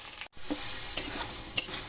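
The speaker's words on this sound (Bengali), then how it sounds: "গোলমরিচ বাটা তেলের মধ্যে ভালো করে ভেজে নেব আর চুলার আঁচটাকে মিডিয়ামে রাখবেন" Ground black pepper and fennel paste fries in oil over medium heat, giving a close, steady sizzle broken by a brief pause and a couple of sharp spatula scrapes.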